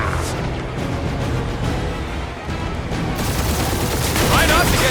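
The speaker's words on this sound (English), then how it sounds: "We're taking fire!" Dense, continuous gunfire and blasts in the space-combat video game Marvel's Guardians of the Galaxy, a loud sustained barrage with layered explosions and engine roar throughout.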